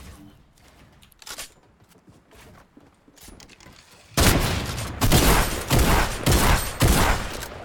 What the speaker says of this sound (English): Why is my gun shooting, dude?